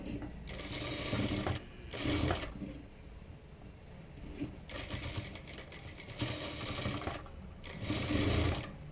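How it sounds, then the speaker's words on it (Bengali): A sewing machine runs in several sustained stretches, joining gathered fabric on a five-year-old child's fatua, its close, steady whir pausing briefly between runs. "এভাবে সম্পূর্ণটাতে আগে একটি সেলাই দিয়ে লাগিয়ে নিচ্ছি"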